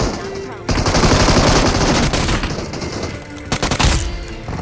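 Rapid automatic gunfire in the battle royale game BGMI, loud and dense bursts nearly continuous for several seconds, with a short pause before a final flurry of shots.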